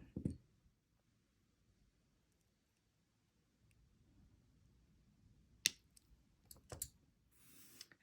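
Jewelry wire is cut while wire-wrapping a pearl necklace: quiet handling, then a couple of sharp close snips with small clicks of the tool, faint and without talking.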